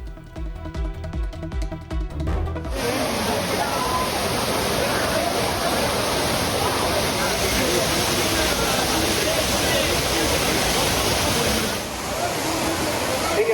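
Courtallam waterfalls in Tamil Nadu where crowds of tourists bathe: a loud, constant roar of cascading water that cuts in abruptly after a brief opening of other sound and holds steady throughout.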